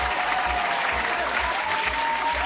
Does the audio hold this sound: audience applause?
yes